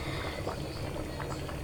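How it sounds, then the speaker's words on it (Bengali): Water with rice boils in a pot for pulao, a steady low bubbling rumble with soft gurgles, moderately quiet and continuous, with no talk. "তো দেখতে পাচ্ছেন বলক এসে গেছে।"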